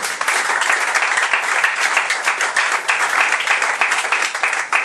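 A church congregation applauds in praise during a worship service, a loud and sustained burst of many hands clapping that holds steady throughout with no pause.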